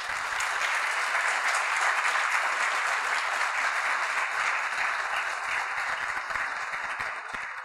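An audience at the 2020 Fairmont Athletic Hall of Fame ceremony gives a sustained round of applause, steady and fairly close, with many hands clapping together from start to finish.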